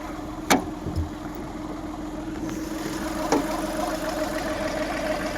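A 2011 Skoda Fabia diesel engine idling steadily with a low, even hum, joined by a couple of brief knocks and clicks early on, heard nearby with no voices.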